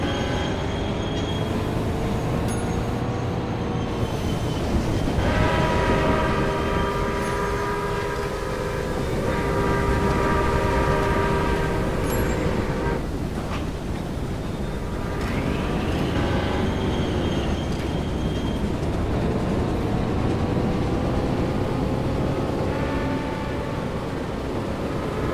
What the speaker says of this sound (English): There's a lot of train noises